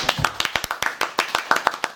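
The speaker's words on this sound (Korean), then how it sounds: "박수" A small group claps in a quick, irregular rhythm to welcome a guest onto a talk show, close and fairly light, lasting about two seconds.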